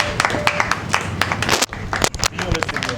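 Church congregation applauding the Lord at a Pentecost seminar: bursts of clapping rise and fall close by, mixed with voices and cheering.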